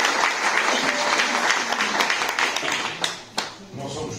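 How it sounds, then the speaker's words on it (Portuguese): Audience at a poetry event applauds in a loud, full burst of clapping that thins toward the end, with some voices mixed in. "Uma salva de palmas para ela."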